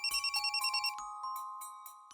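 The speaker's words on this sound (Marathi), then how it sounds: "राहुलचा फोन?" A mobile phone ringtone plays in a quick run of about nine pulsing beeps, then settles into a steady sustained tone, fairly clear and close with no talk over it.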